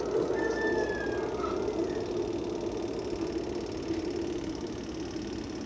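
The dryer drum of a twin tub washing machine spins continuously with a steady, faint mechanical whir and hum, without pauses, and a thin whine rises briefly near the start.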